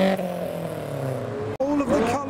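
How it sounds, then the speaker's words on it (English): McLaren and Lotus sports cars revving as they leave a business-park roundabout at a car meet: sharp engine revs climb and fall in two quick bursts, loud and close, with crowd noise around. "we got revs from the McLaren and the Lotus"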